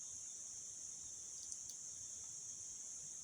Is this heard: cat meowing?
no